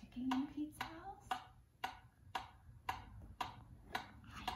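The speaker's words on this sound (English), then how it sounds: "do we hear any ticking in Pete's house?" A steady clock ticks at an even rhythm of about two beats per second, each tick crisp and moderately near, with a soft tonal hum and brief sung notes underneath at the start.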